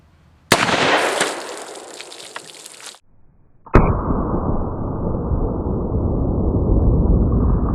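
A Ruger Old Army black powder revolver with a 5.5-inch barrel, loaded with a heavy 255 grain bullet over Goex powder, fires two sharp, loud cracks about three seconds apart, and each blast is followed by a long, noisy wash of sound.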